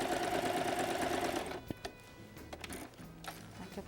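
A sewing machine stitches bias binding onto a transparent bag. It runs in a dense, steady mechanical whir for about a second and a half, then stops. A few quieter handling clicks and taps follow.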